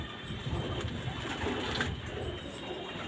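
Kept pigeons, breeding pairs, coo softly in a low, murmuring rhythm with repeated throaty calls, faint and close amid light background noise, with no one talking.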